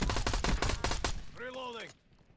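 Video game gunfire, a rapid burst of loud, close shots that cuts off, followed by a brief voice and fading quiet.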